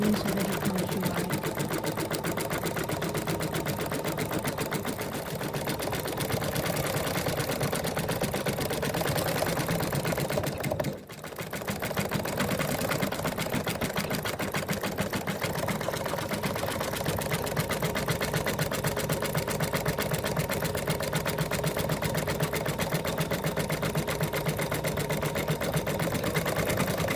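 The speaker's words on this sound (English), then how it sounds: "It's now going to just embroider all the words" A computerized embroidery machine stitches words in a fast, continuous mechanical whir and rattle, steady and close, with one brief pause partway through.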